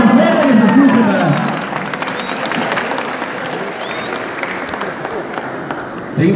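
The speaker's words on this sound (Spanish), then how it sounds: "Un aplauso fuerte que se escuche para..." Crowd applauding loudly at an outdoor Eucharistic procession in Quito, sustained clapping and cheering that rolls steadily for several seconds, with singing voices faintly underneath.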